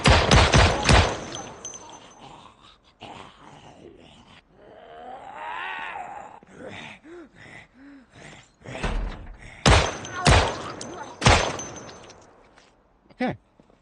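Gunfire in the zombie survival game Project Zomboid, a cluster of sharp loud shots at the start and several more bursts later, separated by quieter game noises and thuds, with someone talking between them.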